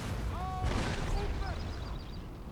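Artillery fire strikes units on a battlefield in the Napoleon: Total War strategy game, with a dull booming impact amid a continuous roar of battle noise and brief tonal calls.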